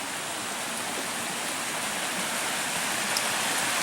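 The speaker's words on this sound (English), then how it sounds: "Pretty little creek. Listen to it all night long." Rio Puerco creek at a campground flows in a steady, broadband rush of water, constant and fairly close, with no voices or other sounds over the continuous wash.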